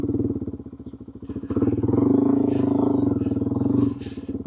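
A dirt motorcycle fitted with Motoz Tractionator Desert H/T tyres rides slowly through boggy, slippery mud, its engine chugging at low revs in a close, loud, throbbing rumble that swells briefly midway before easing off.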